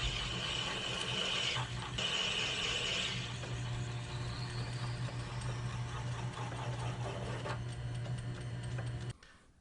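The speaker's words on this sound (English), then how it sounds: "I'll enlarge this hole a little bit more here with this 15/16 inch drill bit" A 15/16 inch drill bit enlarges a hole in a steel part on a South Bend lathe, giving a steady mechanical whir with a low hum and ticking chatter that continue without a break and then stop near the end.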